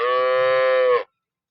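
A dairy cow on a farm gives one loud, close, sustained moo that lasts about a second and cuts off abruptly into silence.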